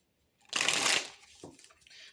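Tarot cards are shuffled during a Taurus horoscope reading: a dense, bright riffling burst of about half a second, fairly close, followed by softer card slides and shuffles, with no talking.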